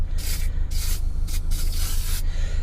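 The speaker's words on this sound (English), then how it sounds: "we're going to take some PB Blaster and we're going to spray this rusty ass ring" PB Blaster penetrating oil sprayed onto a rusty fuel pump locking ring on a BMW E46, in several short hissing aerosol bursts close up, with a steady low hum underneath.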